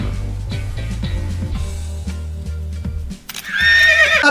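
A horse neighs loudly at the end, a bright shrill whinny cutting in after a stretch of busy music with a thumping rhythm.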